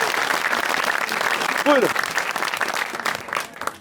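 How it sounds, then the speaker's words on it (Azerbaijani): Applause from a studio audience at a comedy show, a steady dense wash of clapping throughout, with a brief spoken word from the host partway through. "bir dənə gürültü alqışlarla Gülzar xanıma"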